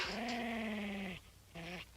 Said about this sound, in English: Show them how you growled at us, Lassie.